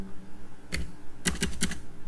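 Typing on a computer keyboard, one isolated keystroke and then a quick burst of four or five clicks, close and clear with no talking.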